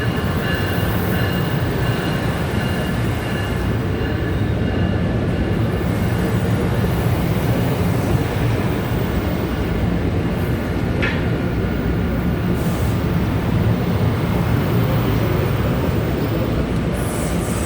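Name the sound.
PATH train at World Trade Center Oculus station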